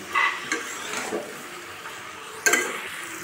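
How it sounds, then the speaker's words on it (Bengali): Fried green jackfruit pieces are stirred in a pan, giving a few scraping strokes of a spoon against metal over a low, soft sizzle, with two sharper clinks. "ভেজে রাখা এঁচোড়গুলো, দিয়ে খুব ভালো করে বেশ কিছু সময় নেড়ে চেড়ে একটু কষিয়ে নেব"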